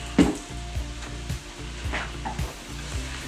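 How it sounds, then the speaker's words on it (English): Ground meat browning in a pan for spaghetti, with a close, steady sizzle and a few soft scraping stirs spaced through it. "Meat's browning real nice, guys."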